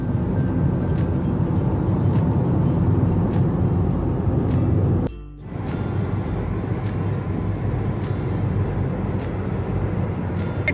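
A car drives a tree-lined road through British Columbia toward Vancouver, giving a continuous loud rumble of engine and tyre roar with a brief dip partway through before the steady drone resumes.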